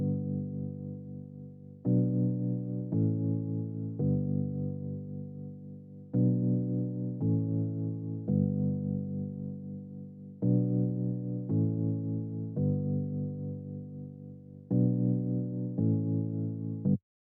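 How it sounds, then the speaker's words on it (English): Warm electric piano chords from the Poison plugin's KBD Warm E Piano preset play in steady, evenly spaced sustained stabs that change every couple of seconds, full and alone. "Now for the chords, I'm using Poison, and the preset I'm using is the KBD Warm E Piano."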